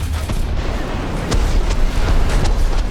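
Fiat 6614 armored car's gun in War Thunder tank combat: a steady low rumble of engine and battlefield noise broken by a few sharp booming shots, loud and close.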